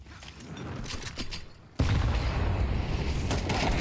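A grenade explodes in a competitive esports shooter match: the busy in-game gunfire and action noise is cut by a sudden loud boom, then dense, sustained blast rumble and debris.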